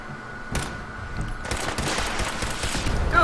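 Missile launcher fire and explosions in the video game Fallout 4: a series of loud, dense blasts and crackling bursts start about half a second in and rumble on almost continuously to the end.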